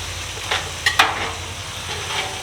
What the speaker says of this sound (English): So we want these onions to caramelize